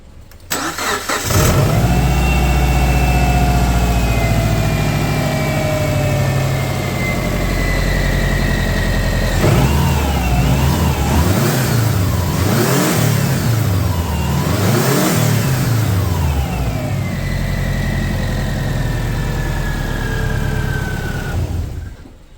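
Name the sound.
Subaru Forester turbo engine idling and revving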